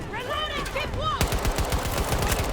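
Shotgun fire in a shooter video game: after a brief stretch of voice, a fast, loud string of repeated blasts bursts in and continues, close and forceful.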